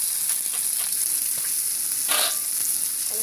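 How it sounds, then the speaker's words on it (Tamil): Fish pieces fry on a dosa griddle over a village wood-fired stove, giving a steady close sizzle with a brief louder flare of spitting oil partway through. "தோசை கல் எவ்வளோ இருக்குதோ அந்த அளவுக்கு வச்சுட்டு நம்ம வறுக்கிறோம்."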